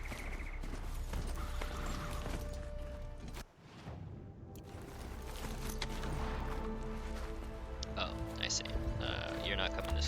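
Horse hooves clop steadily in the video game Horizon, mixed into a busy game soundscape with ambient tones and effects while someone talks over it.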